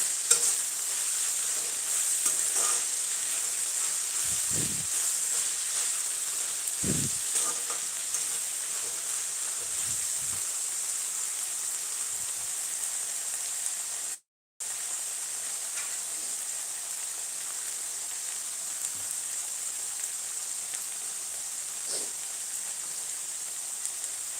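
Onions sizzle steadily in hot oil for a Karnataka-style lemon rice, a constant close frying hiss with occasional soft stirring knocks and a brief dropout midway.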